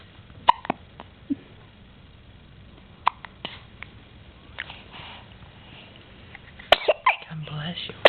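A child's hiccups, short sharp catches spaced irregularly through quiet room noise, then a cluster near the end where a hiccup and a sneeze come together, with voices speaking briefly.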